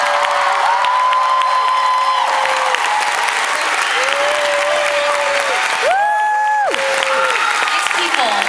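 Loud, sustained applause from a large concert hall crowd at a show, with scattered cheers and whistles rising over the steady clapping.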